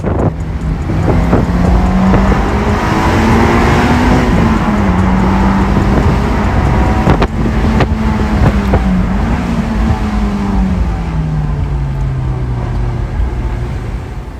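Cars revving and driving past on a touge mountain road, a loud close engine note rising and falling steadily throughout with no talk.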